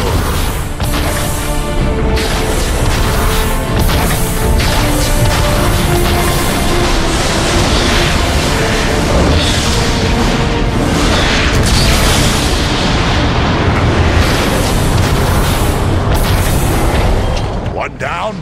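Explosions as a warp cannon is destroyed in Transformers: Fall of Cybertron, a sustained, loud wall of booming blasts and rumbling debris lasting the whole stretch, with voices partly buried underneath.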